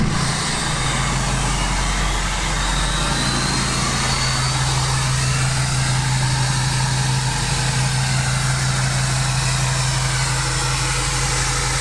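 A 2020+ Ford Super Duty pickup engine idling after a cold start, a loud, steady low rumble with a constant deep drone throughout and no talking.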